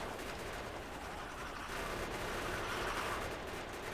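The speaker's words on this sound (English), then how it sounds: "I'm going to swap to my machine gun. Slay all of these biters." Sustained machine gun fire from the player's weapon mowing down biters in the factory-building video game Factorio, a dense, steady rattling barrage that runs unbroken and loud throughout, with no talk.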